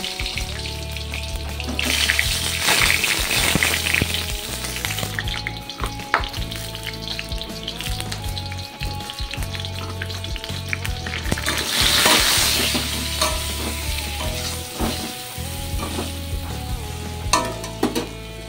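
Hot oil sizzling loudly and continuously as food goes into it in a home kitchen, with stirring clatter and a brief surge of hiss partway through, close up and without talk.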